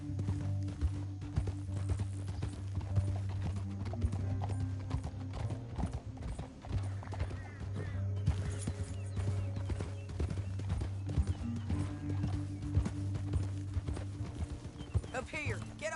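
Horse hooves clip-clopping steadily in Red Dead Redemption 2, a continuous rhythmic gallop sitting under game music and rumbling background sound throughout.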